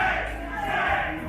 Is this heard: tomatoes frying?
no